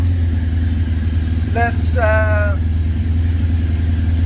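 A minibike engine idles with a steady, close, throbbing rumble that holds its pace throughout, while someone speaks briefly over it.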